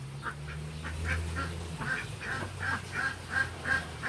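Ducks quack in a rapid rhythmic series of nasal calls outdoors near a rabbit, moderately close, over a low steady background hum.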